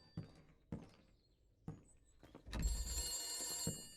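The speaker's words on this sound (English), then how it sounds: "If I don't pick up the phone, it'll never stop ringing." An old-style telephone bell rings inside a horror video game, a few sharp separate rings that give way to a sustained, louder ringing tone near the end.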